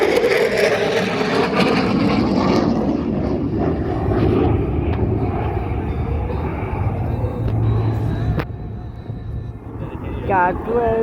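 Deep, loud roar of an F-35A fighter jet sweeping past at an air show, rumbling strongly then tapering off, with an announcer talking over the engine noise.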